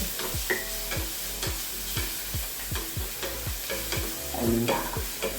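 Small onions, cabbage and other vegetables being sautéed in a pan for noodles: a steady sizzle under regular, rhythmic scraping strokes of a spoon, with no talking.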